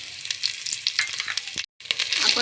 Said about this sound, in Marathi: मी हा खडा मसाला घालून घेते।